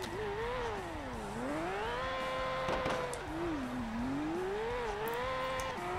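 A Toyota GT86 drift build in CarX Drift Racing Online revs hard, engine pitch swooping up and down as the throttle is worked through slides, with tyre noise and a brief bump mid-way.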